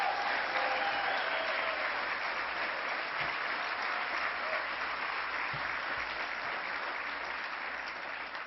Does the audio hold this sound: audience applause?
yes